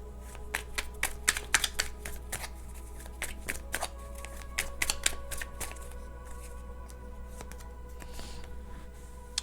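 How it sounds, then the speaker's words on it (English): A stack of index cards is shuffled by hand with rapid riffling taps and flutters in bursts, busiest in the first half and then softening, over a low steady hum in a quiet room. "let's grab a stack of index cards"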